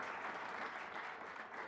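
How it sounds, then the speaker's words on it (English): Audience applauding a presenter at a lecture on AI in emergency departments, a brief burst of dense steady clapping from a crowd, fairly faint, with no talk. "a nice big round of applause"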